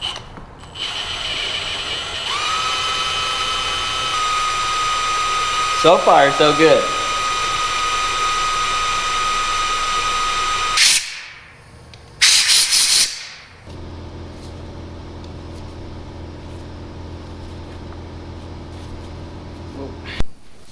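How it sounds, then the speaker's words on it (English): A drill bores into the metal yoke of a 4x4 El Camino drivetrain at the transfer case, a steady high whine with squealing bursts and brief loud grinding spikes midway, with someone talking briefly. "Let's see if I can drill this."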